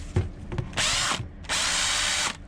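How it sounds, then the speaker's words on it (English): A power drill fitted with a rag spins to polish stainless steel boat fittings, giving two loud, steady whirring bursts with a brief pause between them, close up and without talk. "A little bit of that on a rag. And the drill is literally doing all the hard work."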